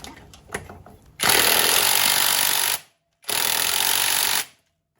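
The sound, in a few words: impact wrench removing gearbox bolts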